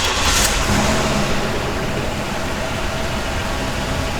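The 3800 engine of an Oldsmobile 98 runs steadily at a loud, close, even idle, with a slight rise at the very start.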